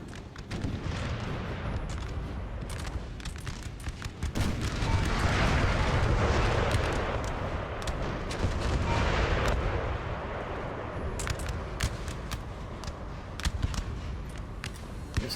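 Cannons boom from both sides in a Napoleon: Total War battle, heavy artillery blasts and scattered gunfire rolling on continuously with rumbling surges and sharp cracks.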